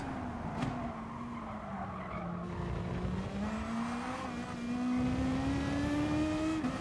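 A car slides through a corner at the Red Bull Ring in Gran Turismo Sport, a steady tire squeal rising and holding over the engine drone, loud and close with no talking.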